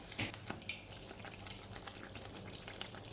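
Paniyaram batter for Chettinad kandarappam, a traditional sweet, frying in oil with oil poured over the top, giving a steady soft sizzle and bubbling with light splashes, fairly quiet and with no talking.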